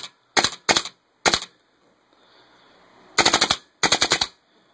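A G&P WOC M4 airsoft rifle with a nearly dead magazine firing in rapid bursts of several shots each, separated by short pauses, loud and close with a crisp snapping mechanical rattle.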